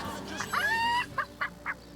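A chicken from the video game Divinity: Original Sin gives a loud, close cry that rises into a drawn-out squawk, then three quick short clucks, with nobody talking.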